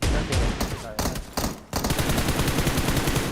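Automatic gunfire in the mobile shooter BGMI, a loud rapid burst of shots with brief gaps, then a dense continuous stream of fire, heard close with no talking.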